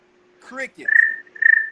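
A person imitates crickets on a live comedy podcast, making a couple of short vocal sounds and then two high, thin whistled chirps, each about a third of a second long, close and alone.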